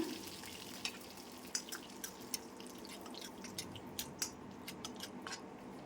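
Curry leaves and dried red chillies fry in hot oil with spluttered mustard seeds for a Kerala ginger curry, giving a soft sizzle with scattered sharp pops and crackles at close range.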